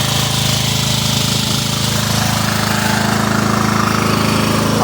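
Riding lawn mower engine, a cheap used machine with a freshly cleaned carburetor, idling loud and near with a steady rapid chugging throb that holds even throughout, no talking over it.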